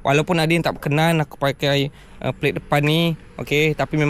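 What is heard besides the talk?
No everyday noise stands out behind the speech.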